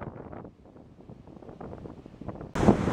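Wind on an exposed coastal road in Hawaii, a low rumble buffeting the microphone, then a sudden louder gust near the end.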